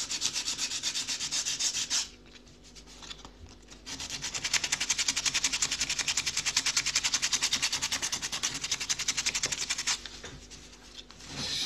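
Hand sanding of an old wooden door with coarse sandpaper: steady, rhythmic rasping strokes, close and loud, with brief pauses between bouts of rubbing.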